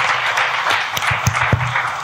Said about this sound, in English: All of you, please give this lady and all her colleagues a round of applause